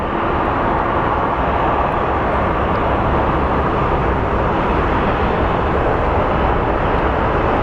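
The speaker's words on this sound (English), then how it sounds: "Oh, there goes our Philadelphia flight." Airliner on a Philadelphia flight passing at Phoenix Sky Harbor International Airport, a loud, unbroken jet roar at steady level throughout with no talking.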